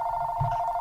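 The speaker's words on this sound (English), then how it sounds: "Ah, phone call." A telephone rings briefly during a gaming session, a steady tonal ring heard clearly over a faint low rumble with no talk.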